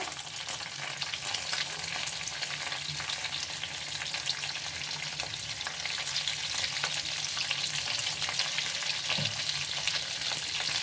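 Eggs with pepper sizzle steadily in a hot pan as they fry toward golden brown. A dense, continuous crackle runs close and fairly loud, with occasional faint stirring scrapes and no voices.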